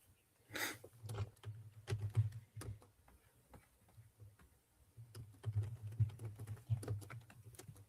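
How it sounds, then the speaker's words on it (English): Typing on a computer keyboard during a livestream, with irregular bursts of soft clicking keystrokes, some fast runs and some pauses, fairly close and quiet. "I was typing."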